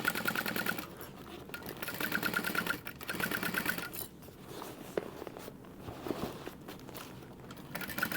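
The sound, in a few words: sewing machine stitching a crossbody bag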